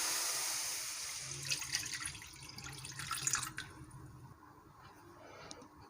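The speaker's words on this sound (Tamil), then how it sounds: "அதாவது 750 ml தண்ணி இப்போது ஃபஸ்ட்டு கடாயில் சேர்த்துக்கலாம்" Water, about 750 ml, is poured into a frying pan (kadai), running and splashing steadily for several seconds, a soft pouring rush that fades toward the end, with no talking.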